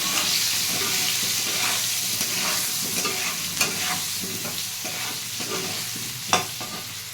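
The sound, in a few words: stirring potatoes frying with salt and turmeric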